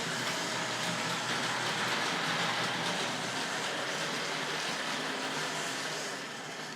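Steady rumbling and whirring of a small Tri-ang model train running along a return loop track, continuous and fairly loud, fading slightly at the end.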